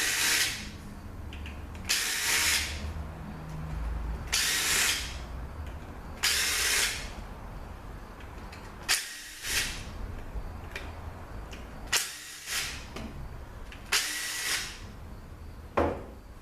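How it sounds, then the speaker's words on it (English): Power tool, likely an impact gun, removing the pump bolts from a ZF 5HP19 automatic transmission in a workshop; about eight short bursts repeat every second or two, close and fairly loud, with quiet gaps between. "now I'm going to get the pump bolts out"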